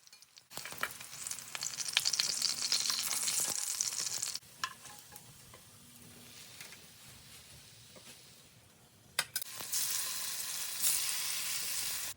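Pomfret fish frying in a hot pan, a steady close sizzle with bright crackling that drops lower in the middle and flares up again near the end.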